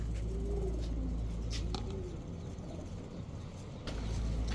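Kobra Lalpatti pigeons give a few soft, low coos, faint against a steady rumble of passing road traffic in the background.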